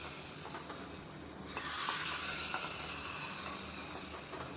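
Hot tempering is poured into a bean, carrot and moong dal kootu and bursts into a loud sizzle partway through, the hiss swelling sharply then settling into a steady crackle without any talk.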